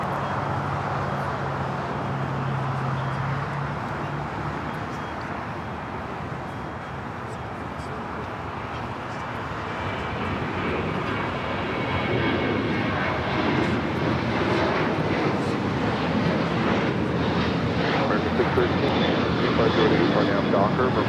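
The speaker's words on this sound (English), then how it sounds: "Air France Flight 22, the 777-300ER coming in from Paris" An Air France Boeing 777-300ER arriving from Paris at Los Angeles airport rumbles in, its jet roar steady at first then swelling louder through the second half, with voices talking over it.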